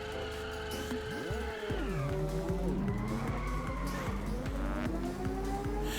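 A race car engine in the driving game Inertial Drift revs up and down while the tires squeal through drifts, loud and continuous, with gear-like pitch sweeps and no talk over it.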